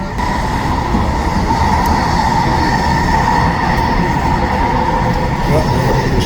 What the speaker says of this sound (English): The shop train, same engine from yesterday.